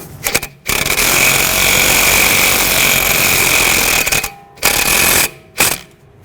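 An impact wrench or power tool runs in loud, close bursts while tightening the strut bracket bolt on a 2010-2017 Chevrolet Equinox front strut assembly, one long buzzing run followed by two shorter pulses.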